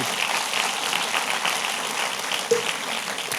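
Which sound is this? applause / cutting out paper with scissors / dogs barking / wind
applause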